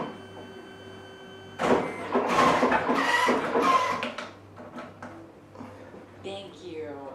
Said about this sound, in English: my printer's just printing off now